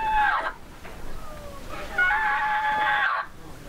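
A mouth reed turkey call, a diaphragm call blown by a person to imitate a turkey, gives two reedy, quavering calls, a short one and then a longer rasping one, close and clear.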